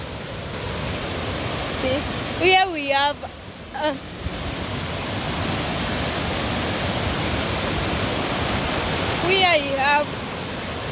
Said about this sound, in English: Here we have a waterfall and another mini waterfall.